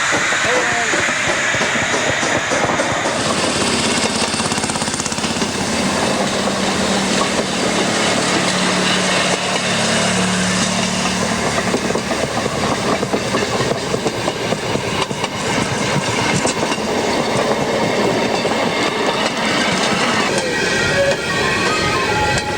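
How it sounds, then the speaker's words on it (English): A 1952 Chicago Northwestern M9 rail motor car, modified in Pennsylvania Railroad style, runs along the track with a loud, continuous rumbling roar and hissing rail noise, while a voice is heard over it. "This is a old Chicago Northwestern 1952 M9, modified to look like the Pennsylvania Railroad that it loves to be on."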